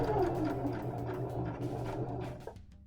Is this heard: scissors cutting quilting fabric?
no